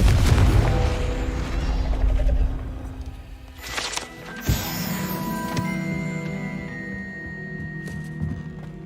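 Confringo blasting spell cast in Hogwarts Legacy, a roaring rumble that cuts to a sharp blast and bright crackle, followed by a ringing magical shimmer and lingering hum.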